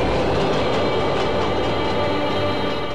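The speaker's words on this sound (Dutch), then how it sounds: "De 4 duo's worden per trein naar de grens met Mongolië gebracht" A train running steadily along the rails toward the Mongolian border, a continuous close rumble with rolling wheel noise and faint rhythmic clatter throughout, no voices.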